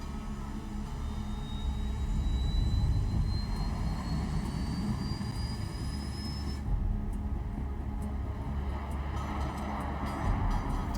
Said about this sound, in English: All this plane could do was take off,